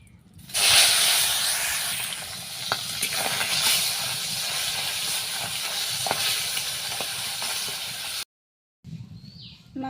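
Hot oil hisses and sizzles steadily in a pan on a village clay stove for Bangladeshi fish cooking, a dense close spray of frying noise that runs unbroken for several seconds before cutting out abruptly.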